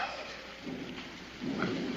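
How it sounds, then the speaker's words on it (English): Heavy rain pours steadily outside, a dense broadband roar, with low rumbling thunder swelling in the background and growing louder toward the end. "it wasn't raining like this when you first come in"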